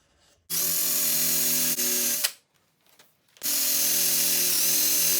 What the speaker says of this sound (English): That's to make sure I start grinding at the right angle.